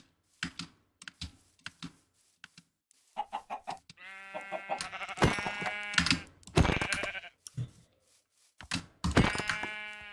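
Minecraft sheep bleat in several wavering, nasal calls, loud and close, with short clicking sounds scattered between them.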